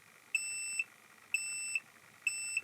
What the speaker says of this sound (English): on the via it beeps, but on the track it doesn't